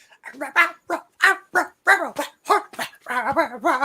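A person voices little wolf-puppy noises, a run of short yips, whimpers and warbling howl-like tones in quick succession, close and fairly loud, imitating a young wolf.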